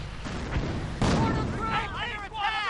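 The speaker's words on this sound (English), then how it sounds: "That was a nice mortar there." A mortar fires and its shell explodes in a World War II strategy video game, a heavy boom followed by rumbling battle noise and faint tonal effects, with a voice talking over it.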